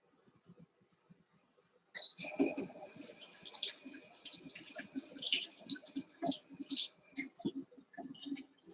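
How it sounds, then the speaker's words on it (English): After near silence, running tap water suddenly starts and flows on as hands are rinsed, broken by irregular splashes and rubbing sounds close by. "Let me get something to rinse my hands off real quick."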